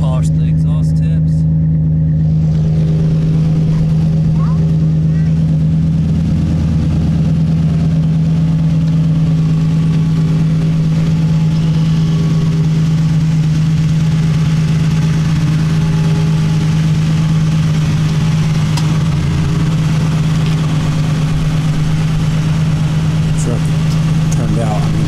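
A Ford Ranger engine idles steadily with a low, constant hum throughout, close by and unchanging.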